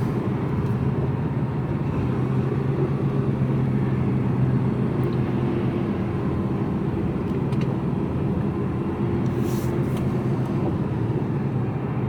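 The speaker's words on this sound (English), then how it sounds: "Oh, there's traffic." Road traffic rumbling steadily from inside a moving car, a constant low engine and road noise with no voices.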